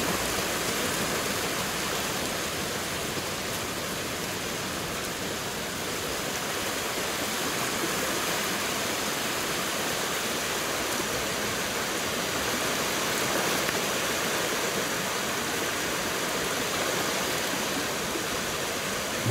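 A waterfall in the video game Ghost of Tsushima roars as a steady, dense rush of falling water that stays constant and fairly loud throughout, with no talking.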